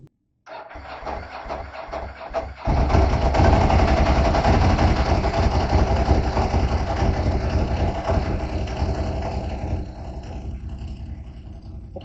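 A project vehicle being fitted with a shifter cranks briefly, then catches and settles into a loud, steady idle, its rough mechanical rumble running continuously and close by.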